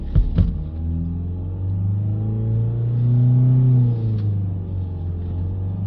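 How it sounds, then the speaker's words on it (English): A Nissan Qashqai engine with a turbo boost pressure fault held at high revs, a steady deep drone that swells a little in the middle before easing back, with a couple of clicks at the start. "Let's hold the revs up"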